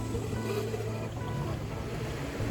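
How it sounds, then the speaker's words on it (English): A sailboat under all plain sail on a starboard reach, making about six knots in good wind, with a steady, moderately quiet rush of water along the hull and a low wind-and-sea bed, no talk. "sailing with some good wind. We're making 6 knots, give or take, right on course"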